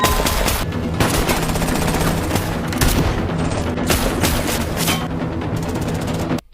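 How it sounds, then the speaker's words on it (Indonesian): Dense, continuous gunfire from a film shootout, rapid automatic bursts and heavy shots overlapping loudly for several seconds before cutting off abruptly near the end. "Setelah aksi tembak-tembakan selesai"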